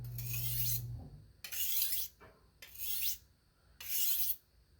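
A $2 thrift-store knife drawn across a hard Arkansas stone to cut a micro bevel, four separate rasping strokes in a steady rhythm, close and fairly loud, with short quiet gaps between passes.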